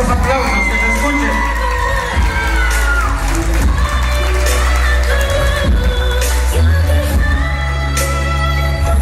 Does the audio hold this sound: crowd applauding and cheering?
yes